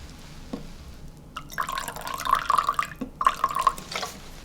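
Rice wine poured into an Instant Pot for Chinese ribs, a short trickling, dripping stream of liquid in two brief bursts, close and fairly soft.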